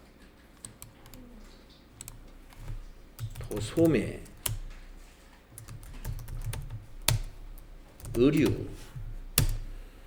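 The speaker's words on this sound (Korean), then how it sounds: "이걸 타자하시겠습니다" Someone types business details into accounting software on a computer keyboard, producing bursts of quick, crisp key clicks under a speaking voice.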